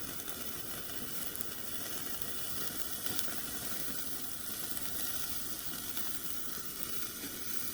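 Steaks sizzling on a wood-fired grill give a steady, dense crackling hiss that runs unbroken throughout, close and fairly loud with no voices.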